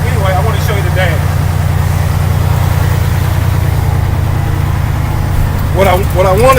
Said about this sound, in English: I'm revving the engine up to 600 to 900 RPMs